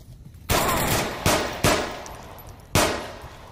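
Four sharp, loud gunshots with echoing tails ring out at uneven intervals in the VR shooter game Onward, each followed by a decaying reverberation.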